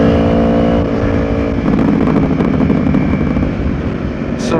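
Yamaha R1 motorcycle engine pulls hard under acceleration as the rider holds the clutch, a loud, close, continuous roar with a rising tone and strong wind rush, no voices over it.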